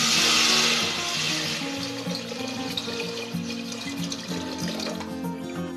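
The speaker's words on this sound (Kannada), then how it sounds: "ಈಗ ಇದಕ್ಕೆ ನೀರು ಹಾಕೊಳ್ತಾ ಇದ್ದೀನಿ." Water pours steadily into a pot for khara pongal, a loud rushing splash at first that settles into a continuous flowing sound, with faint clinks of a utensil in the background.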